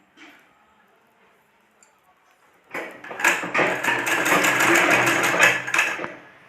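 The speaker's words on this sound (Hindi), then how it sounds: "अब इसमें सिलाई लगाना है" A sewing machine stitches gathered pajama fabric, starting after a near-silent pause with a loud, rapid run of steady needle strokes that continues to the end.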